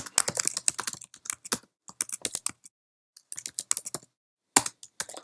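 Typing HTML code on a computer keyboard, heard as bursts of close, crisp keystrokes in an irregular rhythm, with brief pauses between runs of rapid clicks.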